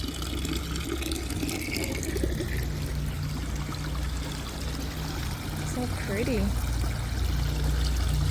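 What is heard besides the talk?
water trickling from garden water features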